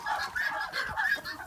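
An Araucana hen on a farm gives a run of soft, close clucks and murmuring calls in an uneven rhythm, fairly quiet and with no talking over it.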